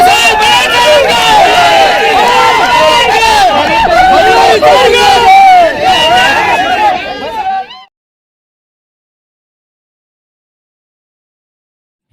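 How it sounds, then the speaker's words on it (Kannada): Government employees cheering and celebrating an election result in Gadag, a loud dense crowd of shouts, whoops and babble filling the first eight seconds before cutting off abruptly to silence. "ನೌಕರರು ಕುಣಿದು ಕುಪ್ಪಳಿಸಿ ಹರ್ಷೋದ್ಗಾರ ವ್ಯಕ್ತಪಡಿಸಿದರು"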